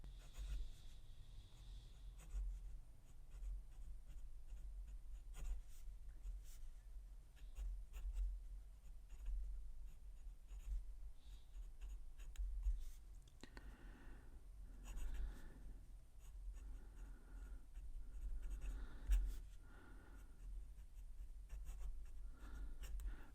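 Majohn C4 eyedropper fountain pen with Robert Oster African Gold ink writing on paper, a faint continuous scratching of strokes and pauses over a low steady room hum.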